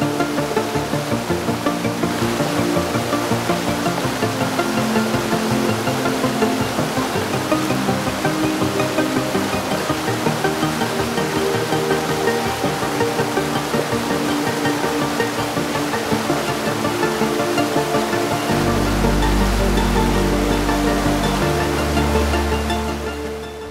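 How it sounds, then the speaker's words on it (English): A steady, dense roar of a waterfall in Coorg, India fills the whole clip, loud and continuous, with a deeper rumble swelling near the end. "the distant murmur of the waterfall gradually grew louder, evolving into a powerful rhythmic roar"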